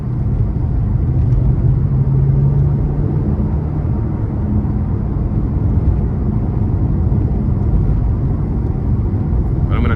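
A 2014 Maserati Ghibli S Q4 twin-turbo V6 heard from inside the cabin after a downshift, a loud steady low engine drone and road rumble that holds evenly for the whole stretch.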